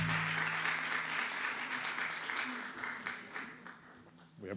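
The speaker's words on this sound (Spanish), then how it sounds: "Un aplauso para Carlos Acevedo." An audience at an international storytelling and reading seminar applauds steadily for a few seconds, a dense, even wash of clapping at moderate distance.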